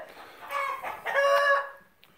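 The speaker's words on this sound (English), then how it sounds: "Here's the old rooster in there. He's talking big time." An old rooster on a small farm crows loudly and close by, a single drawn-out cock-a-doodle-doo with some clucking, standing alone without talk.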